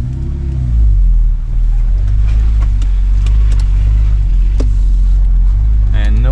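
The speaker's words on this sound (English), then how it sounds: "this looks like it's time to go in four-wheel drive" A vehicle shifted into four-wheel drive rolls onto a woodland trail, its engine a loud, close, steady low rumble that surges briefly as it pulls ahead, with light knocks and creaks over the drone.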